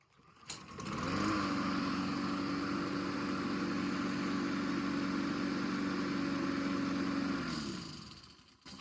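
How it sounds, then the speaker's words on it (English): A Craftsman 7.75 HP lawn mower engine, fitted with a new carburetor, starts up and runs at a steady idle for about seven seconds, then cuts off, close by with no talking. "let's just start the mower and show how the new carburetor works"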